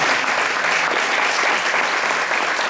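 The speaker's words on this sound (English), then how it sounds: "Give a round of applause, yes." Steady, thick applause fills the room at a community discussion as an audience claps for a student, loud and unbroken throughout with no clear talk.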